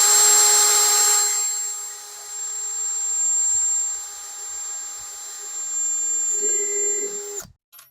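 A drill bores a small pilot hole in a plastic antifreeze cap while a boat water system is winterized: a steady high whine that fades, swells again and stops abruptly near the end.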